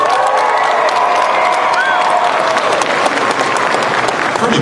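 Sustained, dense applause with scattered cheers and whoops from a big fan-convention crowd, steady and loud throughout with no pause.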